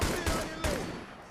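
Gunfire from a Pawan Kalyan film action scene: three sharp shots crack in quick succession, each with a ringing tail, loud and up front.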